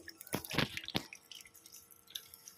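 Something is rinsed and scrubbed thoroughly in water before cooking, with a few quick wet splashes and squishy drips close by, then quieter trickles and a final small splash.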